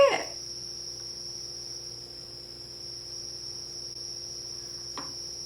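A single cricket chirps in a quiet basement with a steady, thin, continuous trill that stays faint throughout, broken only by a soft knock at the start and a brief tap near the end.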